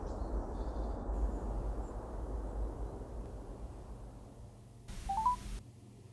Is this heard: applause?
no